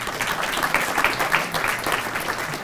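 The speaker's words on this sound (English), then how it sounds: "So, give Fred Zorn a round of applause." A crowd at a police promotion and swearing-in ceremony claps briefly, a dense burst of applause greeting the city administrator, steady and moderately loud for a few seconds.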